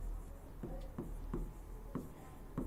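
Chalk or marker strokes on a classroom board during a chemistry lesson, a series of short scratchy marks repeating at a steady pace, fairly close and moderately loud, with no talking.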